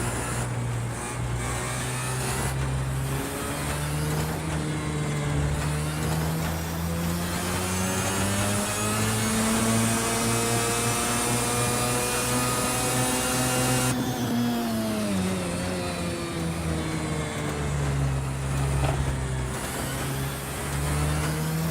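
Simulated racing car engine from the video game Project Cars 2, a buzzy kart-like motor droning steadily, pitch climbing through a long pull, dropping sharply, then rising again, loud and alone.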